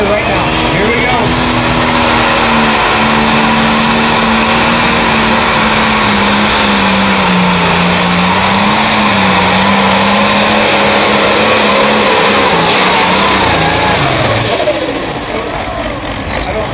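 A tough sludge class pulling tractor roars loudly and steadily at a summer truck and tractor pull in Wisconsin, its engine pitch wavering as it works under load, with an announcer talking over the noise.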